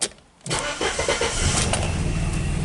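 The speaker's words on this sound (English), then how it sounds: "Now I just start her up, see how the engine sounds." A 1984 Mercedes W123 230E petrol engine cranks briefly after a short pause, catches, and settles into a steady, even idle close by.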